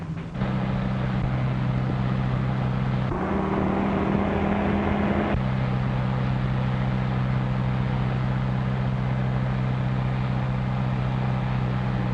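A car from a 1936 crime drama approaching, a steady low engine drone with a brief shift in pitch partway through, continuous and fairly loud with no talk.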